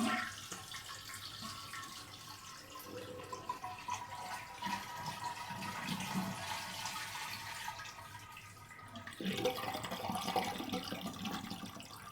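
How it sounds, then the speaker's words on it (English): Rushing water pours and gurgles steadily, swelling louder near the end as the flow surges again; no voices. "Next, you want to flush the toilet and hold it"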